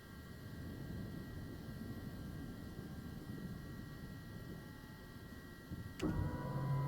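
Auxiliary power unit of a Cessna Citation Longitude business jet spooling up in a flight simulator cockpit, a steady hum and whine that runs throughout, with a sharp click and rising tone near the end.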